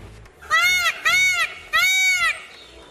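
A peacock gives three loud, nasal, wailing calls in a row, each about half a second long with short gaps, close and clear over a low background.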